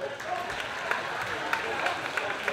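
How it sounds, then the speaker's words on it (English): A live audience at a calypso show gives a brief round of applause, a dense wash of clapping with a few sharper claps standing out. "give yourselves a round of applause"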